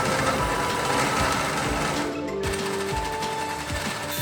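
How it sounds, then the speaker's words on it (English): Steady, loud grinding whir of a hole saw in a tube notcher cutting a 90-degree notch in steel tube for a Volvo 240 race car roll cage, continuous with slight pitch shifts as it bites. "It's a 90-degree cut, so this one's quite easy in the tube notcher."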